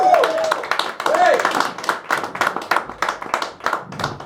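Comedy club audience clapping for a comedian's introduction, a dense stretch of close applause with a voice shouting briefly over the start.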